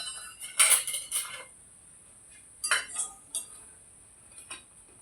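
Crisp sabudana vadas lifted from a frying pan onto a plate, giving a few light metallic clinks and taps of a utensil against pan and plate in short separate bursts, close and fairly quiet.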